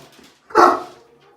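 A large dog getting a medicated bath lets out one loud, sharp bark after a brief faint whimper, then falls quiet.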